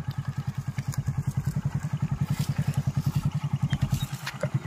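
A motorcycle engine runs steadily at low revs with a rapid, even thumping pulse as a boy learns to ride, close and moderately loud, with no speech.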